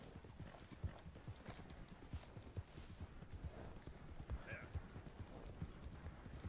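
A horse's hooves clip-clop at a steady trotting rhythm in Red Dead Redemption 2 on the way to Valentine, faint and continuous, with a brief snort or whinny partway through.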